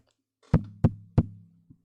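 Three firm, evenly spaced knocks on a door ring out close and loud, followed by a fainter fourth tap, with silence around them.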